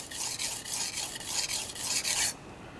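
A kitchen knife is stroked back and forth on a whetstone while its secondary bevel is sharpened, making about eight rhythmic, close, gritty rasps before stopping abruptly.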